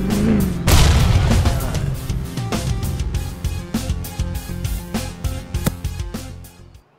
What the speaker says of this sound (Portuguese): Explodiu o carro dele já.